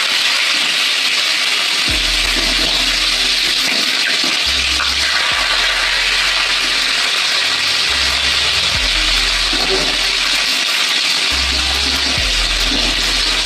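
Chopped onions hit hot oil in a kadai and fry with a loud, continuous hiss and sizzle, a dense steady roar with faint low bumps from the stove or pan.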